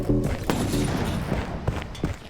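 Revolver shots in a multiplayer video game, a few sharp booming reports spread over a couple of seconds amid loud game noise.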